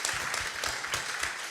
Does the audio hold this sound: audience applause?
yes